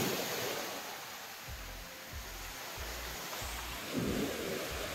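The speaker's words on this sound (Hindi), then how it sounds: "देखो कितनी भयंकर वेव आ रही है" Ocean surf rolls in at Juhu Chaupati beach in Mumbai, a steady faint wash of waves with low rumbling surges and a swell building near the end.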